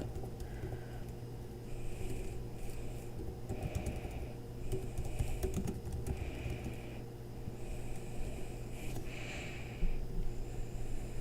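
Soft, continuous typing on a computer keyboard, a quiet pattering of keystrokes over a constant low background hum, with no voices.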